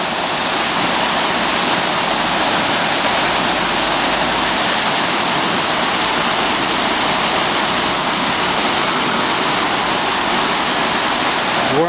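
Water gushes at high pressure from a fire hydrant damaged in a hit-and-run on a downtown street corner in San Luis Obispo, a loud, steady, roaring rush that continues unbroken, close by, with no talking.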